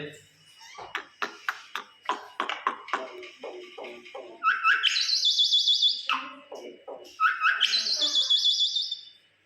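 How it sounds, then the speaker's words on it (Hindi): A pet myna bird calling indoors, starting with a rapid series of short clicks and chirps, then breaking into two bursts of bright, trilling whistles, fairly close and clear with no talk over it. "आज हमारी मैना बहुत खुश है आप लोगों के साथ और बोल रही है।"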